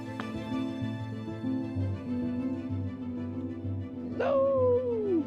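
Margaux, a dog outside near an abandoned chateau, gives a rising, whining whimper toward the end, with a soft yip earlier, under a steady low background hum.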